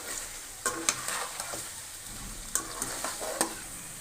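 Tomatoes being stir-roasted in oil for mutton karahi, a faint background sizzle punctuated by repeated spatula scrapes and taps against the pan at irregular intervals.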